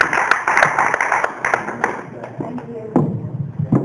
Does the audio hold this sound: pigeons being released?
no